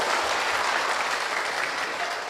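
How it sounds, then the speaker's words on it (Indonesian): A church congregation applauds the men during a sermon, giving a dense, even wash of clapping from many hands that fills the whole stretch at a steady level. "Tepuk tangan dulu kasih bapak-bapak."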